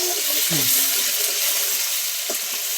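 Tomatoes frying in masala in a pan, a loud constant hiss of sizzling oil with a couple of short scraping stirs breaking through.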